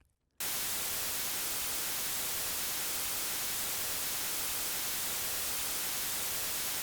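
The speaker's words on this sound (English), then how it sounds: "Watch what happens when I try to fade this white noise into itself" A white noise test signal for a crossfade demonstration bursts in after a brief silence and holds as a steady, full-spectrum hiss at constant level to the end.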